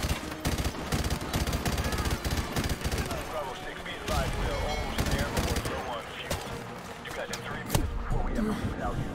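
M249 SAW machine gun in Call of Duty 4 firing rapid sustained bursts amid battlefield gunfire, loud and dense with sharp repeated cracks, with voices talking underneath.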